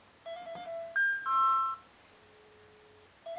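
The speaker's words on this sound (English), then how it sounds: "The phone is ringing." An Alcatel-Lucent Mobile DECT 400 handset rings out in clean electronic tones, a short melodic burst of stepped beeps, then a quieter sustained tone and the start of the next ring.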